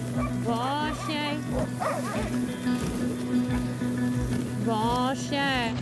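Sled dogs pulling a sledge in Quebec, yipping and barking in bursts under steady pack noise, while a person talks to them over the team.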